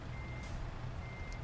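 A truck in American Truck Simulator sounds its reversing alarm, a steady electronic beep held over a constant low engine rumble, heard up close with nobody speaking.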